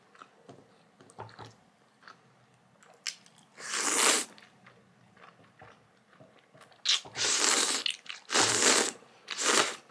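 Close-up eating of a crunchy kimchi cheesy rice ball, with quiet soft chewing first and then several loud crisp bites and crunches in bursts, no talking.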